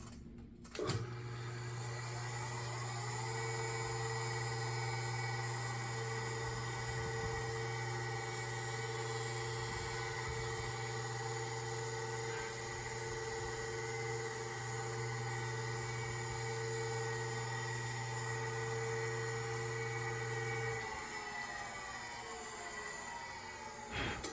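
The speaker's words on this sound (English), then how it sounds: "So let's drill it real quick." A steady mechanical whir runs for about twenty seconds at constant pitch, like a drill motor turning, with a brief start and stop at each end, drilling a hole for a pantograph inlay.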